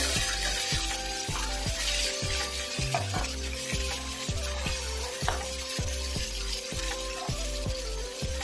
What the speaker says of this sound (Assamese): মাছখিনি ফ্ৰাই হৈ গ'ল দুইটা চাইডে